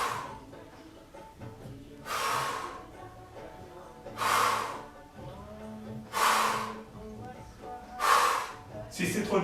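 Forceful exhalations during a yoga session come as four strong, breathy bursts spaced about two seconds apart, with quiet voice sounds in between.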